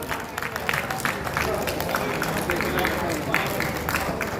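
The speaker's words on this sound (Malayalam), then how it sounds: "ഇദ്ദേഹത്തിനൊരു വലിയ കൈയടി പ്ലീസ്" Crowd applause for an honoree at a restaurant association program, dense scattered clapping sustained throughout with a murmur of crowd babble underneath.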